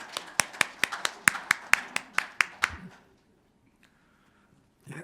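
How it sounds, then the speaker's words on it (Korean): Applause at a Korean breakfast forum lecture: a burst of about a dozen sharp, evenly spaced claps over three seconds, then near silence before a voice begins to speak. "예, 큰 박수 부탁드리겠습니다."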